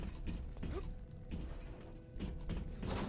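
A mechanical door-opening mechanism in the Bioshock video game, grinding gears and ratcheting clanks in short bursts, fairly faint and with no voices.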